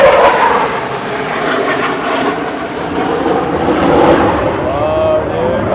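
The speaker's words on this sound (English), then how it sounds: "We got planes coming overhead. It's fighter jets." Fighter jets passing overhead outdoors, a loud broad roaring rush that builds and holds across several seconds, with people talking excitedly underneath.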